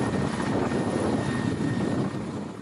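Russian combat helicopters on display roar with a loud, steady engine and rotor drone that fills the whole stretch without pause, slightly easing toward the end, with no voices.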